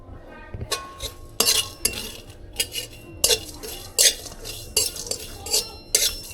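Whole spices (black cardamom, green cardamom, cinnamon, poppy seeds and shahjeera) dry-fried and stirred in a pan, giving a run of about eight sharp metallic scrapes and clinks of a spoon against the pan at a steady pace, close and clear, with no talk.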